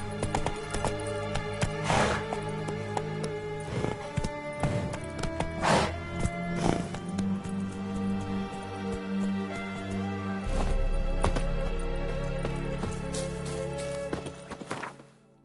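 Geralt's horse Roach gallops in The Witcher 3: Wild Hunt, with rapid, rhythmic hoofbeats and an occasional whinny that carry on steadily and loudly before fading at the end.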